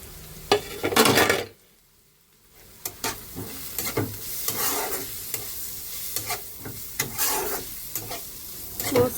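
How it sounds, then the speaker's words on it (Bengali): Ground spices with green chilli and chilli flakes frying and being stirred in a pan, loud sizzling bursts broken by a short quiet gap and repeated scraping stirs, with no voices. "মশলাটা ভাজা হয়ে গিয়েছে।"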